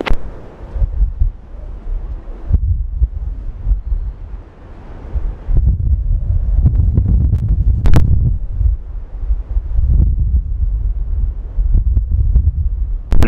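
Storm wind at Schiphol Airport gusting around 50 knots: loud, buffeting roars that surge and drop in irregular bursts, battering the microphone with sharp peaks between quieter lulls.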